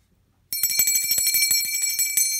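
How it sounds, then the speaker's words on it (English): Small metal bell hidden in a candlestick holder, struck into rapid repeated ringing after a brief silence, bright sustained tones with quick metallic strikes, close and loud. "And there's the bell."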